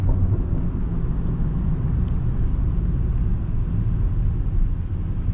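A BMW 330i with a tuned four-cylinder engine making 340 hp, heard from inside the car as a steady, loud, low droning rumble while it drives, with no voices.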